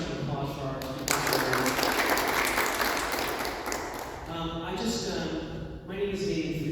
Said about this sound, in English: please, just a round of applause for our